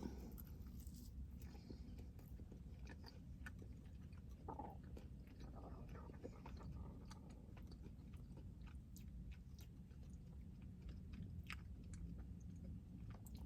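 Someone chews a bite of soft Crumbl cookie with quiet, close mouth sounds and small crunches, low-level and steady with no talk.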